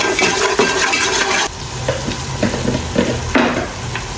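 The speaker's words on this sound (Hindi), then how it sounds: "थोड़ा सा भून लो अदरक लहसुन को प्याज के साथ" Ginger garlic paste fries with onions in a hot pan, giving a steady, close sizzle broken by stirring scrapes and clinks of a spoon against metal.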